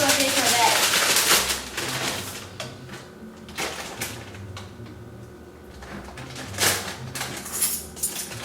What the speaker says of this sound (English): pour 2 tablespoons of popcorn kernels into a paper bag